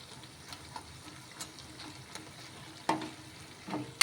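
Murukulu frying in oil in an idli pot, a low steady bubbling crackle with a few louder pops and spits near the end.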